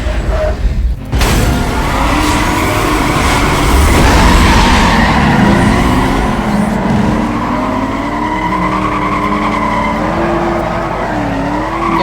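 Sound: Chevrolet Camaro SS driving off and skidding, Need for Speed Most Wanted video game

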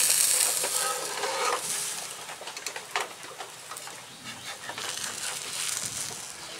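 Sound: spatula loosening palm pitha from wok

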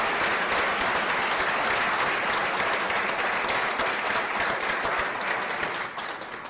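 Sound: applause

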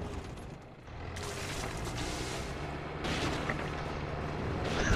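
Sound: gunfire in the video game Far Cry 5

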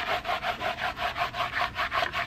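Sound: hard bristle brush scrubbing car carpet

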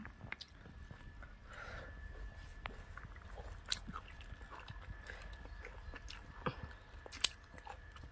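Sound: eating dhekhi shak (wild fern greens)

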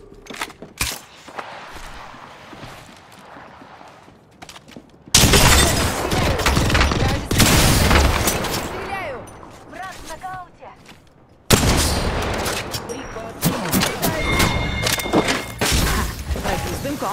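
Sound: gunfire in video game Apex Legends

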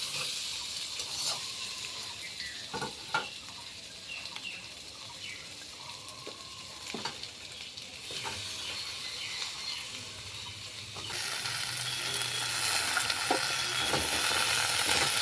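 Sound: frying potatoes stirred with chopped Malabar spinach

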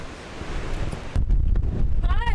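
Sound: strong wind

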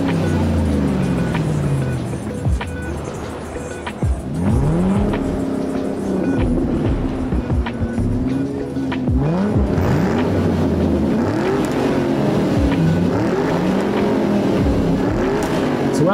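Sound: muscle cars driving in Detroit

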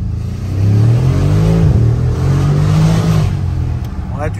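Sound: car engine revving heard through lowered window

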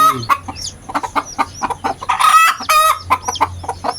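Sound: hen clucking while brooding eggs in a nest

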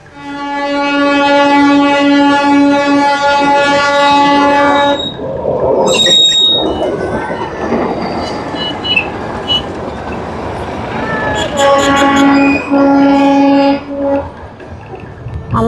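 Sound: narrow-gauge toy train passing

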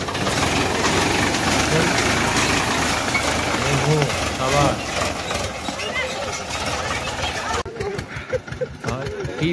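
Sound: tractor engine running

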